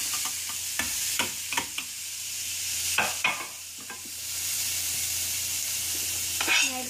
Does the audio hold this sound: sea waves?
no